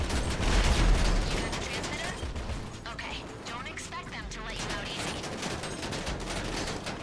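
Rapid gunfire in GTA 5 Online crackles continuously, bursts of shots layered with mechanical clatter, while voices talk quietly underneath.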